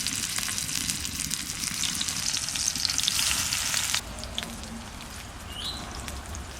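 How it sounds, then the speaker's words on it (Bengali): Prawn paturi wrapped in gourd leaves frying on a tawa, a dense steady sizzle that drops noticeably quieter partway through, close and without voices. "এবার তাওয়াতে করে ভেজে নেব।"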